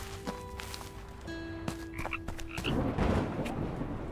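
Frog croaking in the island adventure game Ikonei Island: An Earthlock Adventure, a few short throaty croaks rising over a busy bed of ambient music and game noises, growing more prominent toward the end.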